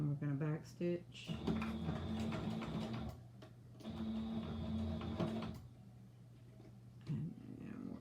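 A sewing machine runs in two bursts of stitching, one forward and one back stitch, each a close motorized hum with ticking, with a brief pause between them and a voice talking at the start.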